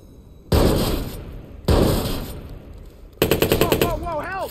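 Two heavy gunshot blasts with ringing tails in the Watch Dogs video game, followed by a quick rattling burst of automatic fire with metallic pings, loud and close.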